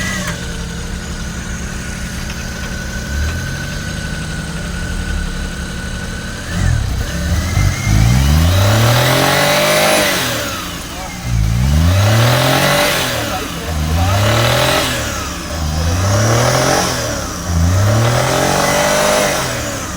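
A used car's engine cranks and catches after a few quiet seconds, then revs repeatedly in strong rising-and-falling bursts, about five loud vroom swells near the microphone with no talking.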